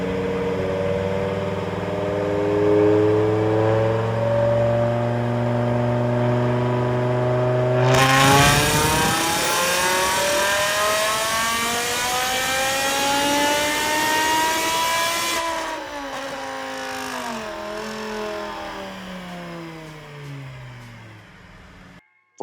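A BMW E60 M5 revs hard on a dyno during a fifth gear pull, its engine tone climbing steadily into a loud, sustained high-rpm wail before dropping away as the throttle lifts. Close and continuous.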